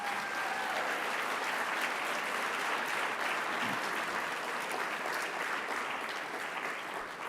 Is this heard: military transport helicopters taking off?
no